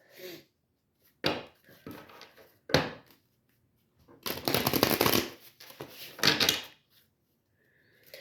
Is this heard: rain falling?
no